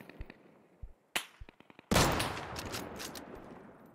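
Gunfire in the online shooter Deadside: a few scattered distant shots, then a sudden loud, sustained burst of rapid automatic fire with echoing crackle, no talk.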